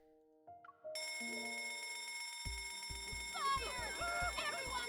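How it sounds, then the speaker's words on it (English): A fire alarm bell rings loudly and continuously in the Love and Deepspace video game, starting after a brief musical cue and holding a steady piercing tone over rhythmic low thumps and a swirling bright chatter. "Oh no. Not the fire alarm."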